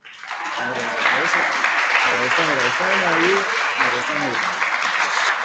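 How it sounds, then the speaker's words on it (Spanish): Students applaud a lecturer at the close of a macroeconomics class, steady clapping running throughout while a voice talks over it. "Ahí está el aplauso."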